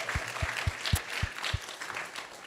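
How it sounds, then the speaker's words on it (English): Audience applause for a guest speaker at a devotional gathering, heard as a steady wash of many hands with a few louder claps thudding out in a loose rhythm near the start. "So let's give him a big round of applause as well"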